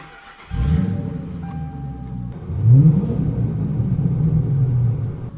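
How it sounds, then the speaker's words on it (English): A car engine cranks and catches after its low battery is boosted by a DEWALT 20V MAX inflator's power supply, then settles into a steady, loud idle rumble close by. "Well, let's fire the car up."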